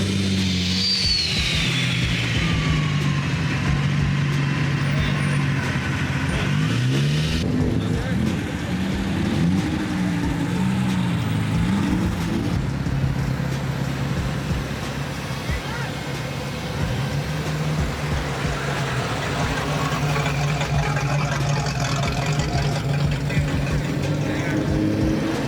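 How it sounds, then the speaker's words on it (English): Cars rolling into an early-morning Super Drive Lunar New Year car meet full of motor-swapped builds, with steady low engine rumble and idling throughout, occasional revs, and people chatting nearby over the mechanical drone. "We're gonna see all the cars kind of roll in."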